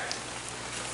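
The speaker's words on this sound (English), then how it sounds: "then it starts raining, and not just playing around rain" Heavy rain pours steadily at an outdoor tilapia pond, a dense, even hiss of drops on water and surfaces filling the whole moment without a break.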